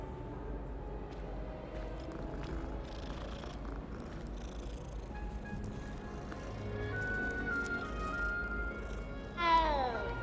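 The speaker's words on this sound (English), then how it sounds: "Oh, kitty cat." A cat in Hogwarts Legacy purrs softly beneath a low game ambience and a voice, and a short rising meow breaks out near the end.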